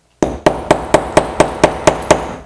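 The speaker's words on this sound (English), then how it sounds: "you'll hammer it a few times and your spring snap is added." A hammer strikes a setting tool to fix a metal spring snap onto a sewn garment, nine sharp evenly spaced taps about a quarter second apart, close and loud with no talk.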